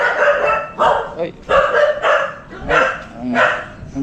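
A dog barks fiercely in several loud, harsh bursts spread across a few seconds, mixed with street noise and nearby voices.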